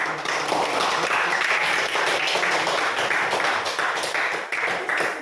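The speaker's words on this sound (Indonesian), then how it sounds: "Oke, tepuk tangan." A group of students claps at a class session, loud and fairly steady, with individual claps standing out in a choppy rhythm throughout.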